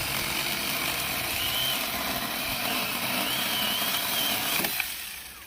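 A Saker mini 20-volt cordless electric chainsaw cuts through hickory hardwood, a steady high motor whine with a grinding bite into the wood, ending with a brief clunk as the cut finishes.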